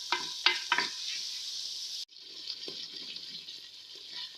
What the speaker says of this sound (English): So I'll just keep stirring till my tomatoes are tender.